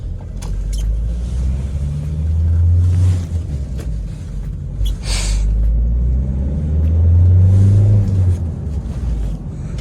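A Ford Kuga Titanium 2.0 TDCi 4x4 diesel engine drones loudly and steadily, its pitch rising twice as it speeds up, with rumbling road noise throughout.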